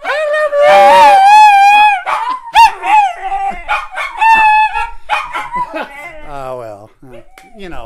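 A dog howls and yowls in long, pitched, voice-like wails while being coaxed to talk, loud and close, with short yelps and breaks between the drawn-out howls.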